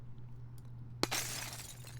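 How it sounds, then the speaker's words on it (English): Glass smashed for a Halo 3 Warthog explosion sound design: one sharp crash, then a bright spray of shards scattering and tinkling for about a second over a low steady hum, with no voices. "Here's our glass being smashed."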